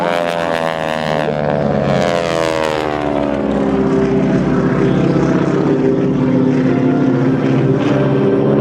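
Aerobatic propeller planes of the AeroShell team dive toward one another at an airshow, a loud continuous engine drone with a falling Doppler pitch as the aircraft sweep past, no voices.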